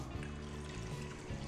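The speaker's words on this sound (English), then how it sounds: "I'll put in all the water" Water is poured into a microwave-safe bowl of washed samo seeds, a soft continuous trickling and splashing, quiet and close, with no voice over it.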